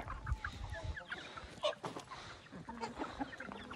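A Sussex rooster clucks in short bursts, close by in a chicken coop, over a noisy, rustling background.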